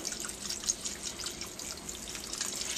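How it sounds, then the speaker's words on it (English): Organic vegetable broth being poured into a soup pot over butternut squash, a steady liquid splash and trickle at moderate volume running throughout, without any talk. "Now we're going to go ahead and add our vegetable broth in."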